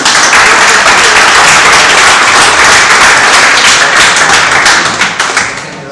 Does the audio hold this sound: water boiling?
no